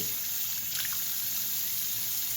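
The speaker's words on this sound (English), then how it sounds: "I'm running extremely hot water from the faucet down in the drain" Extremely hot water runs from a faucet down a sink drain, producing a steady, unbroken gushing hiss at moderate level for the whole stretch.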